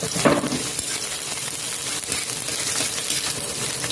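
Onion, garlic and ginger sautéing in hot oil give off a steady broadband sizzle with light crackling and the occasional stir, holding even and close throughout.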